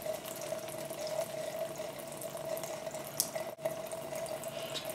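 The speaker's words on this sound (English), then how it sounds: "next I'm going to wet the brush, keeping it downwards at all times" Running water pours steadily from a tap onto a makeup brush held downwards during brush cleaning, a constant close splashing stream with a faint tonal hum, heard alone.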